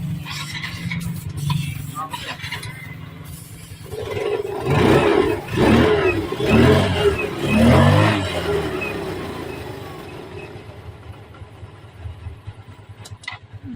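A Yamaha Mio 125i scooter engine misfires as it is revved, the loud uneven roar surging in several bursts mid-clip over a steady idle, with brief voices before it.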